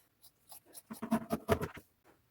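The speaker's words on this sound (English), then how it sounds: "And now I'm just going to cut that off." Scissors cut through the denim leg of a pair of bib overalls, a quiet, close run of crunchy snips and slides with a short pause between them.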